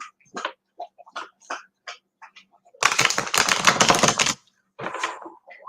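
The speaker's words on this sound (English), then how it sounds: "So let me give this a shuffle." A deck of tarot cards is riffle-shuffled in one quick, crisp burst lasting about a second and a half, with someone speaking softly before and after.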